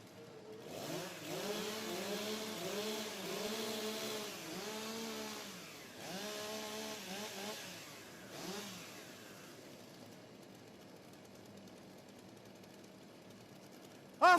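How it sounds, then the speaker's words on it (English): STIHL chainsaws rev up and idle in warm-up before a rookie timbersports world championship competition, several engines rising and falling in repeated revving bursts for about nine seconds, then dropping to a low idle hum. "warm up your saws."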